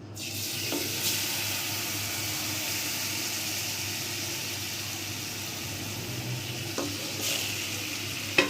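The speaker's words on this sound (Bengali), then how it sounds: "আমার মাছটা ভাজা হয়ে গেছে।" Spice-paste-coated koi fish frying in a pan gives a steady, close sizzle that runs throughout, with a few brief scrapes and knocks from turning or stirring.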